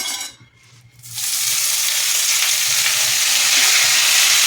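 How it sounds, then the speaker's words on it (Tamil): Mint leaves hitting hot oil in a pan and being sautéed, a brief quiet stir followed by a loud, steady sizzle that holds close and constant. "இந்த புதினாவை நல்லா வதக்கிறது"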